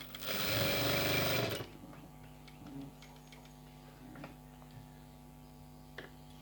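A sewing machine stitches a blouse neck piece in a tailoring shop: one loud, steady whirring run lasting just over a second, followed by faint clicks and a low hum.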